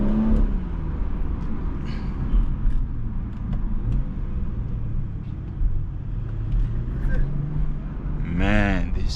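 Close engine rumble and road noise from a BMW 340i driving through Johannesburg's busy CBD, a steady low drone with slight revving swells, heard from inside the car under continuous conversation.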